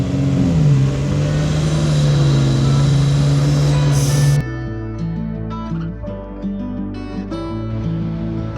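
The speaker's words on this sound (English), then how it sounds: "Driving on the beach at Fort Stevens was a lot of fun" A car engine drones steadily, driving on the sand at Fort Stevens State Park on the Oregon coast, loud and close with a low hum, then the tone shifts partway through as the engine note changes.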